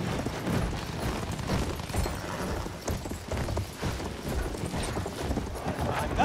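Horse galloping in the Battlefield 1 video game, hooves drumming rapidly and continuously amid battlefield noise, close and fairly loud.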